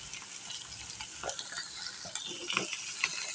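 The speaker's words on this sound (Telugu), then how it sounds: "చక్కగా అటు ఇటు తిప్పుకుంటూ ఫ్రై చేసుకోవాలి" Onion, green chili and curry leaves stir-fry in a pan for cabbage masala curry, giving a soft, steady sizzle with scattered scraping ticks of a stirring spoon, fairly faint and close, with no talking.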